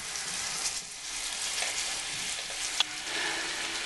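Mango pieces with spices and rice wine vinegar cook gently over low heat for a mango chutney, giving a soft, even bubbling sizzle with one brief click near the end.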